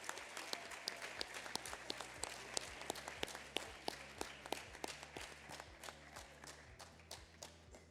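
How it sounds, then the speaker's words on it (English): A crowd at a high school Decision Day event gives a round of applause, with distinct individual claps sounding close and sparse over a steady, fainter patter of clapping. "Now let's give them a big round of applause."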